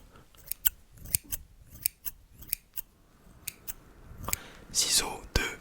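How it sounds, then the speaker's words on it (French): Classic barber scissors snip in a close, quiet hairdresser role-play, giving a series of crisp metallic clicks at an uneven pace, with soft breathy whispering and light mouth sounds between them. "Alors j'ai deux types de ciseaux. D'abord, ciseaux un peu classiques"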